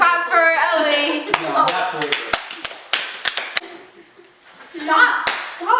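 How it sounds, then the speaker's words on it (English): A few people give scattered, uneven hand claps for a girl named Ellie, sharp slaps mixed in with loud talking and excited voices. "Everyone clap for Ellie."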